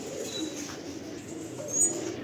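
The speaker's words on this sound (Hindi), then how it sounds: "ये मेरा पास है लाल परी कबूतर और बटेरी मादा, ये उसका बच्चा, लाल परी और बटेरी।" Soft, low cooing of Lal Pari pigeons, including a Lal Pari and Bateri pair and their young, murmuring continuously at close range with a brief chirp, under quiet background room noise.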